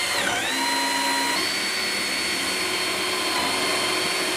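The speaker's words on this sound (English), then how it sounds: "So now I can drill through. I'm going to put 2 holes in each." A Bosch power drill whines loudly and steadily as it bores through wood while building a mini shed, its motor pitch dipping briefly at the start, then holding close and continuous.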